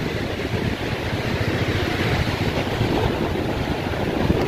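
Strong night wind along the Subang-Bandung road near Ciater blows as a loud, continuous roaring buffet, steady and gusty, with no one speaking.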